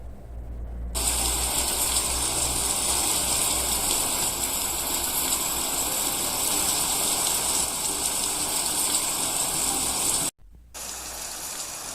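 Steady rain pours down in a dense, even hiss of drops on surfaces, constant and close, cutting out briefly near the end before resuming more softly.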